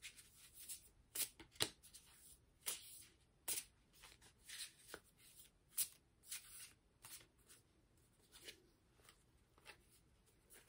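Oracle cards from the Haunted Banner Oracle deck are shuffled by hand in quiet, irregular papery bursts and flicks that come and go over several seconds.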